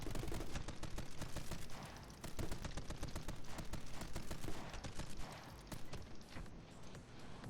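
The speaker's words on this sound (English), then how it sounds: "Let's go with the sniper rifle." Rapid, dense gunfire from a sniper rifle in the action game My Friend Pedro, loud and continuous, with shots tumbling over each other in a steady clatter for several seconds.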